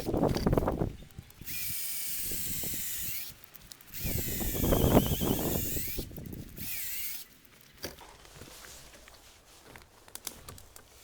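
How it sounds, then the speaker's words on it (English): A hand drill bores through wood in three separate bursts of a few seconds each, its pitch shifting as it bites in, with pauses and small knocks between. "I will drill from both sides because I now have a straight line."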